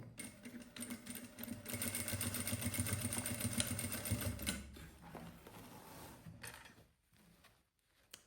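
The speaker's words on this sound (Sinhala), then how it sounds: "මේ විදිහට බෙල්ට් එක මහගත්තට පස්සේ" A sewing machine runs in fast continuous bursts, stitching a belt onto a white school uniform, then slows and stops with a few quiet handling clicks close by.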